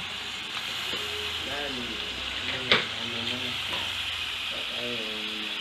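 Chicken Bicol Express with ginger, onion, garlic, eggplant, tomato and large green chilies sizzling steadily in a pan, close and continuous, with a brief clatter midway and people talking over it.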